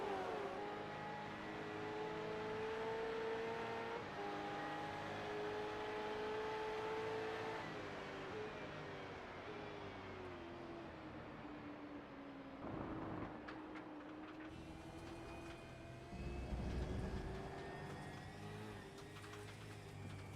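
Race car engine droning steadily on a wet Watkins Glen track in iRacing, a sustained tonal roar with pitch rising and falling through shifts, plus gritty bursts from the underside later on.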